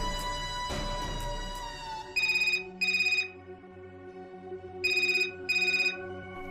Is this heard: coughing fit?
no